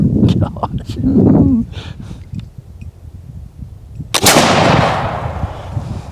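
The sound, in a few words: smoothbore gun firing round ball and shot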